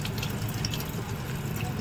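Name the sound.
water being poured onto waterproof ID card sticker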